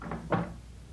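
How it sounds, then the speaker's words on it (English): Door opening in an old radio drama, a short wooden clunk and creak heard close, alone against a faint background hiss. "Answer the door, Kolu."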